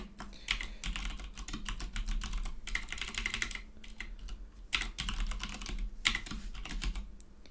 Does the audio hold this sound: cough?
no